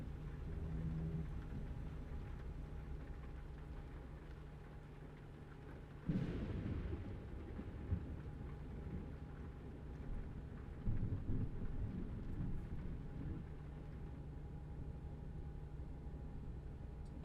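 Steady rain with rumbling thunder in a truck simulator video game, a loud crack of thunder bursting in midway and further rumbles later over the constant downpour.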